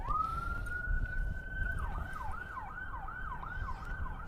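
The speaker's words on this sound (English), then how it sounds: "More cop cars sound like they're on their way." A police car siren wails steadily, then switches to a rapid repeating yelp, loud and continuous over low traffic rumble.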